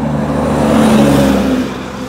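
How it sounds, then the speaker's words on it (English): A big truck drives past close by, a loud low engine rumble and whir that swells in the middle and then eases off. "It's just a big truck coming now."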